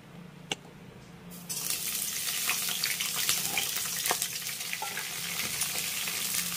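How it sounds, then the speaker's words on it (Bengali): Long beans (barbati), 250 g cut into long pieces, drop into three tablespoons of hot white oil and burst into a loud, steady sizzle that continues after a quieter opening moment. "তেলটা ভালোভাবে গরম হয়ে গেলে তেলের ভিতরে দিয়ে দেব আমি বরবটি।"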